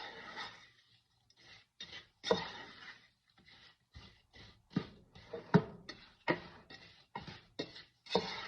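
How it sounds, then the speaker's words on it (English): Apple pie barbecue sauce being stirred in a pot, a series of short scraping and sloshing strokes in an uneven rhythm, close and fairly quiet with gaps between strokes. "So I'm stirring it all up"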